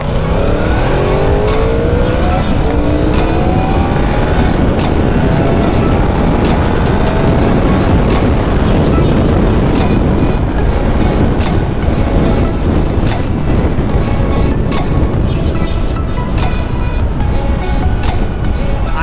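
2016 Yamaha YZF-R1 60th Anniversary Edition motorcycle accelerating hard at full power, a loud close engine scream rising through the revs with wind rush, continuous throughout.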